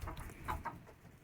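A chicken gives a few short, close clucks in quick succession on a farm, soft and brief.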